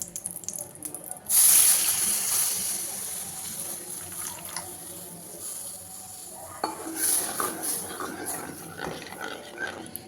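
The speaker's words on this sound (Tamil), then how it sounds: "நல்லா நம்ம கைவிட்டாமல் கிண்டிகிட்டே இருக்கணும்." A spoon scrapes and swirls through milk and melted butter in a pan, making a close, continuous stirring sound with metallic clinks in uneven surges.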